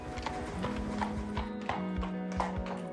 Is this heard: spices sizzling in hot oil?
no